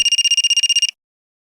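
A mobile phone rings with a fast, evenly pulsed electronic trill, about a dozen rapid beeps in under a second, loud and close, then cutting off into silence.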